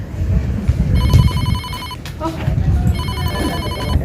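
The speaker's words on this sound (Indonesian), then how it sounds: "ada telepon nih" A telephone rings in two bursts of electronic trilling, with a short gap between them, while a voice speaks briefly underneath.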